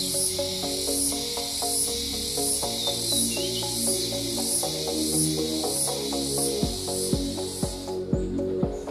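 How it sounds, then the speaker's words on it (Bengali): Crickets at a jungle lodge in Buxa trill in a steady, evenly pulsed high chirp that runs continuously over a low background hum and some clattering, with no voices. "ঝিঝি পোকার ডাক।"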